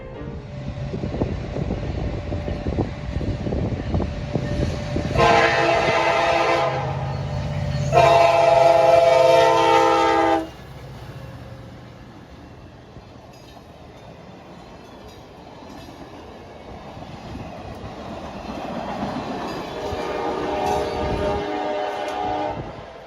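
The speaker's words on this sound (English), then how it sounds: "the business train then came roaring past the railroad crossing" A passenger train roars past a railroad crossing close by, its horn blaring in two long blasts, then the rumble and clatter of cars fades and swells again.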